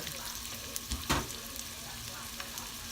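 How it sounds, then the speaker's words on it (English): Red onions grilling in a pan with a spoonful of sugar, a steady close sizzle with a couple of soft stir bumps in the middle. "grill the red onions"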